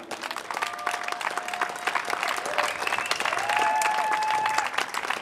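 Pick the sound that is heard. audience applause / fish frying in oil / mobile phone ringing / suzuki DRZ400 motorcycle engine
audience applause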